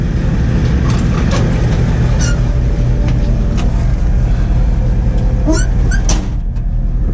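Bagged, body-dropped squarebody Chevy truck on billet wheels cruising on a short ride, a loud, constant cabin rumble with a few brief squeaks and rattles on top.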